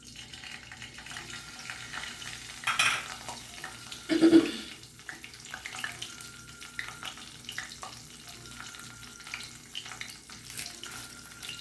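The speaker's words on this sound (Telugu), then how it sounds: "తాలింపు గింజలు వేస్తున్నాను." Tempering seeds hit hot oil in a pan for a Malabar spinach and tomato curry, giving a faint, close sizzle with two louder crackling bursts early on, then a soft steady fizz without talk.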